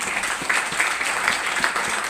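An audience at a Vestige health product training applauds for a protein powder, a steady, fairly close crowd clapping that runs unbroken for about two seconds.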